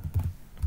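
A few quick keystrokes on a computer keyboard while entering a command in AutoCAD, brief and close, with no talking.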